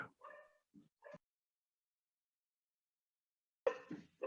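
A dog gives a few short whimpers and yips, separated by a long silence, followed by a louder burst of yipping near the end.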